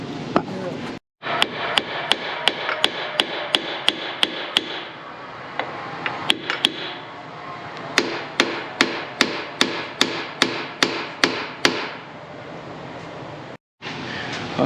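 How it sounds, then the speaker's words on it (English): Repeated hammer blows on metal while prying a part off a tractor, two bursts of sharp, evenly spaced strikes about a half second apart, loud and close with a short pause between them. "See, I knew a hammer would work."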